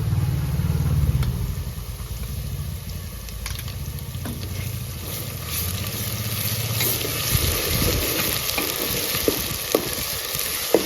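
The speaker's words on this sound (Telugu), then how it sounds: "ఇప్పుడు తాలింపు బాగా ఫ్రై అయింది కదా అల్లం వెల్లుల్లి పేస్ట్ వేసుకుందాం ఒక స్పూను" A spoonful of ginger garlic paste goes into hot tempering oil in a pan for country chicken curry. A continuous sizzle and crackle follows, with a low rumbling hum under it and a few sharper pops near the end.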